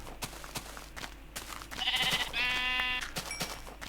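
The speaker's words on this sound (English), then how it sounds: "Kill a couple more sheep real quick in the night." Sheep bleating in Minecraft, two quick wavering bleats over busy game sounds and soft clicks, at moderate loudness.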